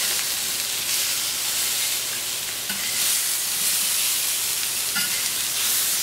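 Pre-cooked potatoes being stirred in a hot pan, sizzling and frying steadily with a continuous hiss and occasional scraping of the utensil, close and fairly loud throughout.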